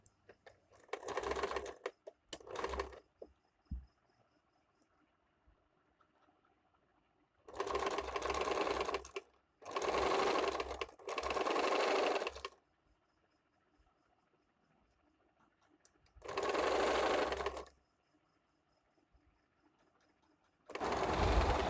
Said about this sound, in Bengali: এবার দেখুন এদিক থেকে ঘুরিয়ে আমি আরেকটা সেলাই দিয়ে দেব।